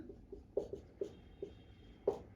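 Scratchy strokes of writing on a board during a Class 10 maths lecture on real numbers, about five short taps and scrapes in an uneven rhythm, close and fairly quiet, with no talking.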